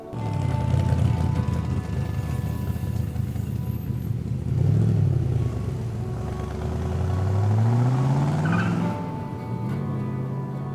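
A 1967 Chevrolet 427 Corvette Roadster's big engine revs and accelerates, its low roar climbing in pitch through a long pull, then dropping and building again, loud and close throughout.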